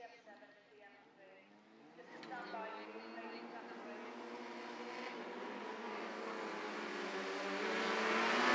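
Autograss race cars in the ladies class 2 race up the straight into turn 1, engines revving hard and building steadily louder, with a commentator talking over the noise throughout.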